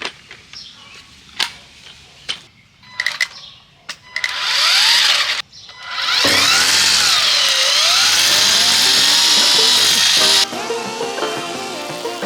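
A string trimmer whirs loudly and steadily through weeds during yard work, starting after several short bursts and running for several seconds with a shifting high whine before easing off.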